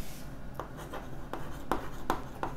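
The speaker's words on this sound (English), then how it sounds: "Suppose I'm writing here" Chalk or marker strokes scratch across a classroom board during a lesson on sets, several short scraping bursts spaced irregularly over low room noise, close and moderately loud, with no talking.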